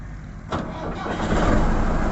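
A Massey Ferguson 385 tractor engine cranks and catches, then settles into a steady, loud low rumble that carries on to the end.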